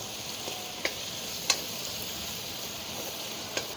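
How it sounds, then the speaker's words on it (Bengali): Onions and chicken fry in a pan for a chicken curry cooked in a truck, a steady moderate sizzle with a few sharp ticks and spatula clicks over it, with no voices. "এবার পেঁয়াজটাকে ভালো করে লাল করব তারপরে এতে দেবো হচ্ছে চিকেন"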